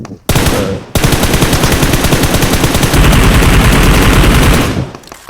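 Loud, rapid automatic gunfire from PUBG Mobile rattles on almost without pause for several seconds, close and dense, then cuts off abruptly.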